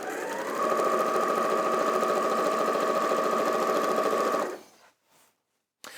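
A domestic sewing machine stitches a quilt in one fast, steady run of rapid whirring close by, then stops abruptly, leaving near silence and a short final bump.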